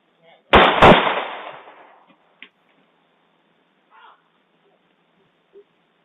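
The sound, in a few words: gunshots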